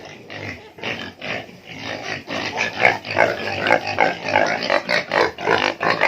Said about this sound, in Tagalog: yung mga baboy ng hipag ko